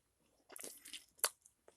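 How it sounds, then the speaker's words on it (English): Gum being chewed up close, a few soft wet crunches and bites in a short burst with one sharper snap near the end, quiet and alone. "I was chewing gum."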